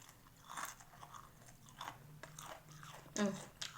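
Someone chews tongseng, a soupy Indonesian meat stew, during a mukbang, with soft close bites and crunches in a quiet room and one sharper crunch near the end.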